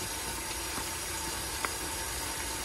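Tap water running steadily into a dish pan in a kitchen, a faint continuous hiss with a couple of small clinks, no voices.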